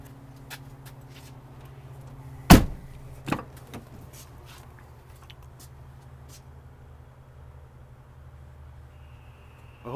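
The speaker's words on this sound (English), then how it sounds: "I'm just going to open these two doors for you here." Doors of a 2006 Chevrolet Silverado 1500 pickup are opened, giving a sharp latch clunk and a second softer click against a quiet idle background.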